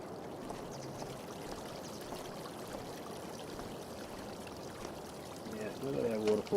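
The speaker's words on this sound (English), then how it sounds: "Look at that waterfall." Steady rushing water from a waterfall in the video game Farming Simulator 25, a continuous even wash that grows slightly louder near the end.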